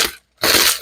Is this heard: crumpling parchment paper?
yes